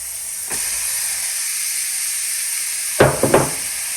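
Beets hit a hot pan with a steady hiss running throughout, a brief knock early on, then a cluster of sharp clatters and sizzling bursts near the end, close and with no talking.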